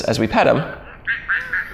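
Brief quacking from the My Special Aflac robot duck toy set to its mad response, following a speaking voice and sounding in a few short, fairly close bursts.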